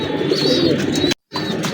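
A pair of Kamagar pigeons coo close by in a continuous soft, throaty warble, broken by a brief silent gap before the cooing resumes.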